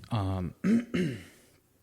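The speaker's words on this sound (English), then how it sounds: "Clear my throat." A person clears their throat in a few voiced, rasping bursts close to the mic, then quiet.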